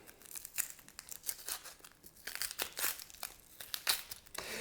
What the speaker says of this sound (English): cut the onion down the middle and peel the sucker